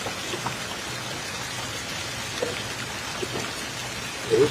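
Rain falling outdoors as a steady, close hiss with a few scattered drips and taps, and a slightly louder patter right at the end.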